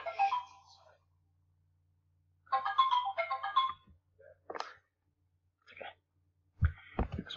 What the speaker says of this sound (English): That's my friend's cell phone.